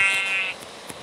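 Sheep bleating in a survival video game, a loud, nasal, tonal bleat in the first half followed by quieter faint blips, with no voices.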